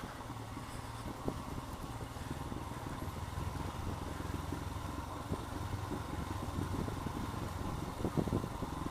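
A Royal Enfield Himalayan motorcycle rides through the streets of Bhaktapur, with a steady low engine drone and light rattles throughout, even in level and moderately faint, with no talking.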